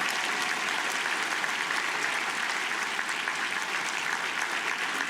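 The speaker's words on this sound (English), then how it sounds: "Please give them a round of applause." Steady, dense applause from a dinner audience at a book festival author dinner in Tucson, filling the room evenly and continuously without pause.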